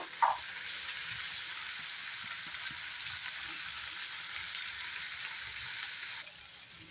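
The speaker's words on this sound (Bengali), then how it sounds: "আমি একটু জিরা ভিজিয়ে রেখেছিলাম, জিরাটাও এখানে ভেজে নেব" Soaked cumin seeds sizzle in a pan of half-fried paneer-recipe vegetables: a steady, loud hiss of frying after one brief clink at the start, then fading near the end. No one speaks.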